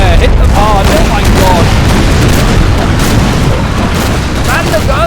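Naval cannon fire in a Napoleonic sea battle in the strategy game Napoleon: Total War, with dense, overlapping booms and rumbling volleys forming a loud, continuous barrage, and voices mixed in throughout.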